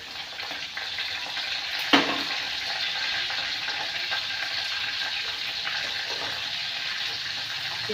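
Tomatoes hiss and sizzle as they go into a pan with roasted garlic, giving a steady, close frying crackle after a brief clatter as they drop in.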